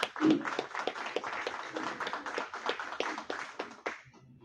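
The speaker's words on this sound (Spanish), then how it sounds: "un aplauso por favor" Scattered hand clapping from a small audience at a seminar on alternative media in the Peruvian Congress, quick irregular claps at moderate level throughout, with faint murmuring underneath.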